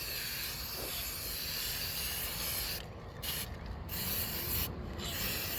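A spray can of primer coats an Estes Hi-Flier XL model rocket with a continuous close hiss. A few short breaks come as the spray is released and pressed again.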